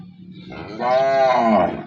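A freshly calved cow on a farm in Banaskantha gives one loud, drawn-out moo close by. It swells after a quieter lead-in and carries on for about a second with no voices over it.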